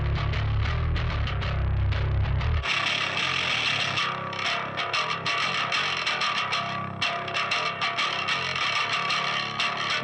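Bass guitar run through an amp simulator set for a clanky tone, a thick low rumble at first, then bright, distorted, effects-heavy playing sustained loudly and alone throughout.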